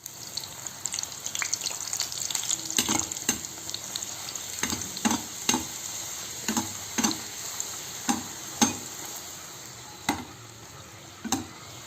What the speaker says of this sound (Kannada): ಇವಾಗ ಇದಕ್ಕೆ ಲಟ್ಸಿರೋ ಅಂಥ ಚಪಾತಿ ಹಿಟ್ಟನ್ನ ಇದರಲ್ಲಿ ಎಣ್ಣೆಯಲ್ಲಿ ಬಿಡ್ತೀನಿ